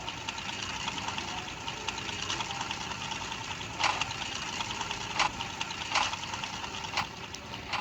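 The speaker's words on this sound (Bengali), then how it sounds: "চলো বাইকে উঠি।" A motorbike engine idles in a video game with a steady mechanical hum and light knocking, broken by a few short, sharper clicks or ticks spaced a second or so apart, and no talking.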